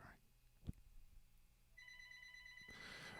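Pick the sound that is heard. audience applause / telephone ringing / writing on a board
telephone ringing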